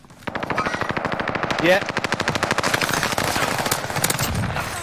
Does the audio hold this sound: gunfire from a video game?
yes